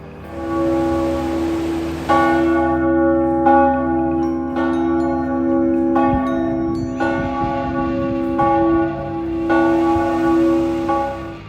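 A large memorial bell at a war memorial site tolls in long, ringing strokes, each strike sharp and then humming for seconds, struck again roughly every one to two seconds, loud and close with no talking.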